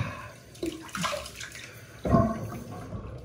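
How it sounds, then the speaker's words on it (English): Cold water runs from a tap into a sink for rinsing, making a steady rushing splash nearby. The flow swells in a few surges and then eases off. "Rinse off with cold water."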